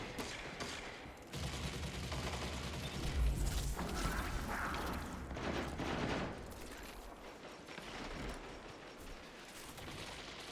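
Rapid gunfire from the Osteo Striga in a shooter video game, a dense sustained burst of loud shots with mechanical clatter that runs almost continuously, easing off briefly near the end.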